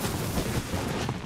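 Video game gunfire in a loud, dense burst of rapid shots and blasts, crackling continuously through the short moment with no pauses.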